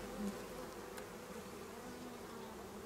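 A small honeybee colony on a brood frame gives off a soft, continuous buzzing hum, faint and steady throughout with no voices.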